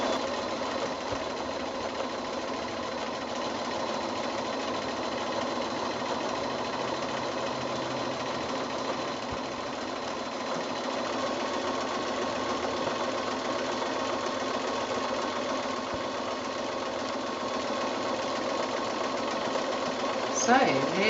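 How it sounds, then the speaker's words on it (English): A sewing machine runs steadily through free motion quilting around appliqué letters on a roadwork-themed quilt, a continuous close, even mechanical whir with a faint knocking rhythm that barely changes for about twenty seconds. "free motion sewing."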